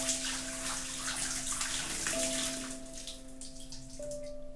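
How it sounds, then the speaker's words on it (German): A bucket of water poured onto dried flowers in the video game Homesick, a rushing splash of water over a soft steady tonal hum that eases off toward the end. "Also nehmen wir doch mal den Wassereimer. Schütten das da drauf."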